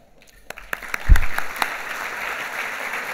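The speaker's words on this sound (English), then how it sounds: "There's a lot of clapping tonight." Audience applause at an awards ceremony building into a full burst of clapping from a crowd, with a few sharp claps at the start before it settles into steady sustained applause.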